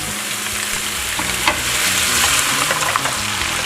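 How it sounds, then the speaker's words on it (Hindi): Boneless chicken pieces stirred into light-browned onions in a hot pot, a loud, steady sizzle with continuous scraping and stirring close by, no voices. "ये हमारी प्याज लाइट ब्राउन हो चुकी है और अब इसके अंदर मैं बोटियाँ मिक्स करने लगी हूँ।"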